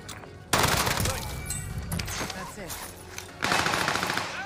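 Loud automatic gunfire from a weapon in a video game, a rapid burst starting about half a second in, then a lull and a second fierce burst near the end, with a voice talking over it.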